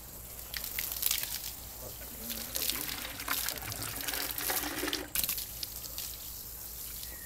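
Water runs and splashes from a tap or outdoor spout as someone rinses a container. It is a continuous, moderately loud trickle with a brief break about two-thirds through.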